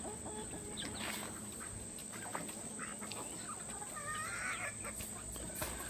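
Young gamefowl pullets and stags cluck and call intermittently in the near distance over a constant background hiss, with a few sharper squawks scattered throughout.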